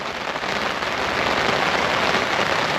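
Heavy rain pouring down beside a carp fishing pond, a dense, loud, continuous hiss of drops hammering nearby surfaces with no letup.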